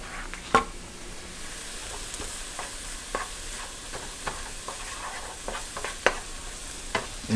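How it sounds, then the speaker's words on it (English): Jalapenos frying in a skillet after softened vegetables for tacos: a steady low sizzle with frequent utensil stirs, scrapes and clacks against the pan, no talking. "So what we want to do at this point is add the jalapenos. Cook that a little bit."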